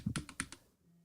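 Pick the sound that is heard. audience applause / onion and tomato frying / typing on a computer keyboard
typing on a computer keyboard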